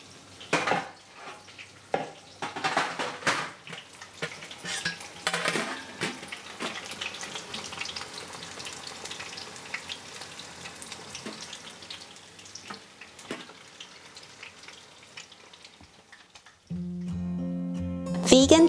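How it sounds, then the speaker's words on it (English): Battered vegetable skewers deep-fry in oil with soft bubbling and crackle, broken by scattered clicks and clatter, before a louder tonal burst takes over near the end. "Turn the veggies over with a pair of tongs or a large chopstick and fry for another additional 1 minute."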